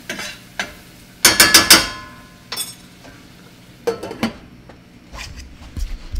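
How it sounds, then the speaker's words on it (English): A fork stirs butter and flour roux in a pan while cooking tomato gravy, giving sharp scraping clatters in short bursts with quieter gaps and a faint sizzle underneath. "I'm going to stir my roux right quick."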